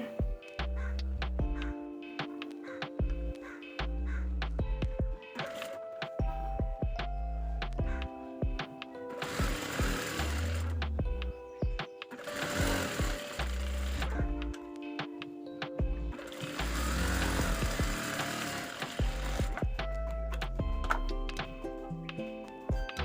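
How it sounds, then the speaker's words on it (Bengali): A sewing machine stitches the folded sleeve hem of a kameez, running in several steady mechanical bursts with short pauses between them, close and fairly loud. "হাতার মোহরিটা এক ইঞ্চির মতন সেলাই করে নেব মুড়িয়ে"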